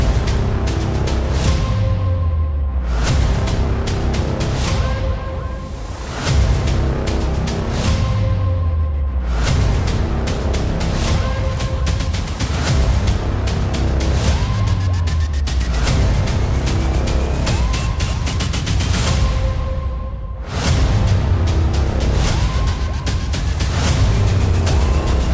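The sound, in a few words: Lamborghini Huracán Evo driving on track in a racing simulator game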